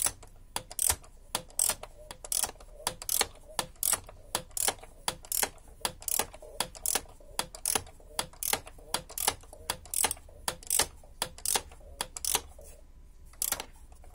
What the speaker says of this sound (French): Je serre un peu à la main et puis ensuite je finis à la clé